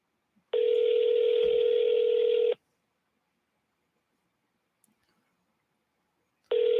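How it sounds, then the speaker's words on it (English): A telephone call rings out as a steady electronic tone lasting about two seconds, followed by a long silence and a second tone starting, clean and loud in a quiet room. "Let's see if we can get somebody on the phone here."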